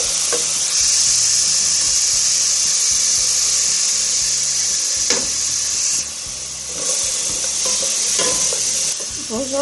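Onion and garlic frying in hot oil give off a steady, loud sizzle with a bright hiss throughout, along with occasional stirring scrapes and a brief dip in intensity partway through.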